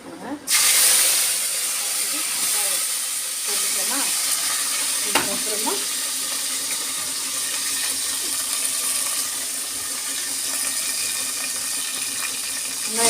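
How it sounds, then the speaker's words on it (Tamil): Fenugreek seeds sizzle in hot oil after mustard seeds, a steady close hiss of frying with a few small pops and scrapes. A voice talks faintly in the background. "லைட்டாக கொஞ்சம் வெந்தயம் வெந்தி வெந்து பொரிஞ்சிச்சுல"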